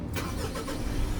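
A Mitsubishi Montero engine cranking and catching after the push start button is pressed, a loud close rumble that rises quickly and holds steady through the brief moment.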